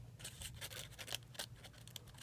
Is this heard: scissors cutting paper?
yes